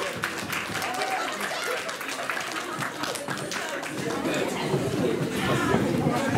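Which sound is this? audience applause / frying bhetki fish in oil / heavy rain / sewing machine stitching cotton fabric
audience applause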